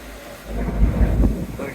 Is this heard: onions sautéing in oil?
no